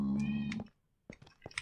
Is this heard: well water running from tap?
no